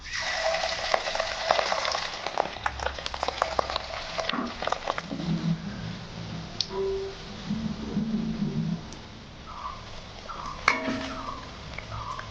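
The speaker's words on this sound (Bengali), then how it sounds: "এখন ভাজা হবে মাছের ডিমের বড়া" Fish roe fritters in gram-flour batter fry in hot oil, a crackling sizzle with sharp pops and a few clinks of a utensil against the pan, fading toward quieter bubbling near the end.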